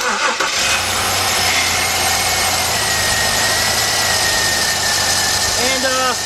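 A 2003 Jeep Liberty's 3.7-litre engine, partly rebuilt, cranks and catches, then settles into a steady loud idle close by, with someone talking over it.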